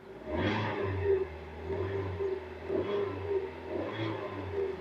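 A 2020 Hyundai Venue petrol engine idles steadily with a low, even hum and gentle periodic pulses, no voices present.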